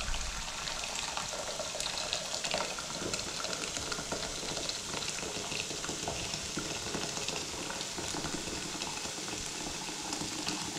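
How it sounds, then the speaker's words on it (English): Vegetables sizzle steadily in a hot pan while a veggie pasta is cooked, a dense, continuous frying hiss with faint stirring and clatter throughout, close and alone with no talk. "In the meantime, this is still sizzling away."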